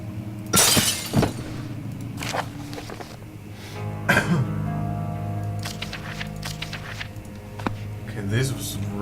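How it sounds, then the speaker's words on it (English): Glass shatters in the horror video game Amnesia: The Dark Descent with a sharp, bright crash near the start, followed by softer clinks and debris over a low ambient hum as people chat. "Break the glass."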